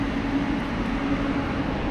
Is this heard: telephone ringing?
no